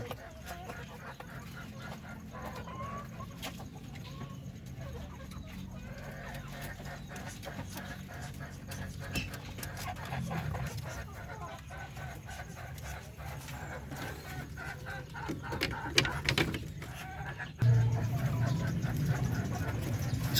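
Pinoy native hens and a rooster on a breeder farm cluck softly and steadily in the background. Clucks come and go with low ambient noise, and a louder patch of activity swells near the end.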